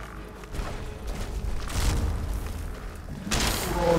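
A grenade detonating in Skyrim, heard as a low, muffled boom that swells and rumbles, followed by a second rumbling burst near the end, moderately loud and set against game ambience.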